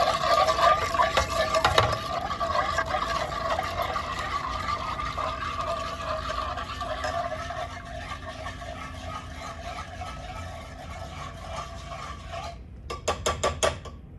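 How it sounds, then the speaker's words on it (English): Yeast and sugar being stirred vigorously in a bowl for king cake dough, a steady scraping, clinking whisk rhythm, close and continuous, ending in a few quick sharp taps. "Vigorously stirring so I could try to break up some of those yeast granules and the sugar granules"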